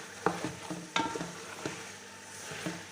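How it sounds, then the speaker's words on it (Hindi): A spoon stirs chicken rice in a pan, making a series of scraping clinks and soft stirring strokes over a faint sizzle, close and moderately quiet, with no talking. "इनको ऐड करने के बाद हम इसमें चम्मच चला लेंगे।"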